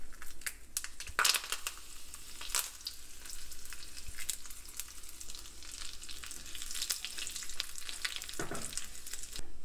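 Green chillies and curry leaves frying and crackling in hot oil for a plantain buttermilk curry, a steady close sizzle with sharp pops and stirring scrapes throughout, no talking.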